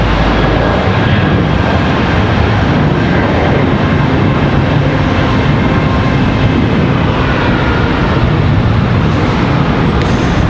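Airplane departing Charlotte Douglas International Airport, a loud, dense, continuous engine roar with heavy low rumble, steady throughout and without talk.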